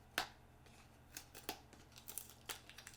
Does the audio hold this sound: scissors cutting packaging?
yes